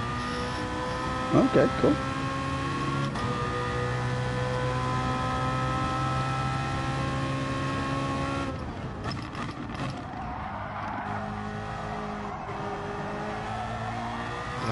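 A car engine and exhaust in a racing video game, a steady droning tone with a few sharp pops and crackles near the start, shifting in pitch midway, close and loud, with people briefly talking over it.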